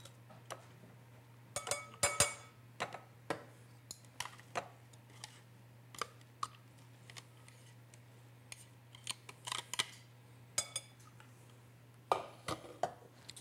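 Coleslaw is tipped into a bowl with a string of light, crisp clicks and soft scrapes, spaced irregularly over a faint steady hum, quiet and close with no talking.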